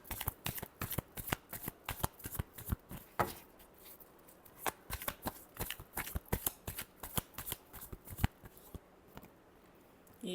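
Tarot cards being shuffled up close, a rapid run of crisp riffling flicks and slaps in quick bursts, loud and alone with no talk.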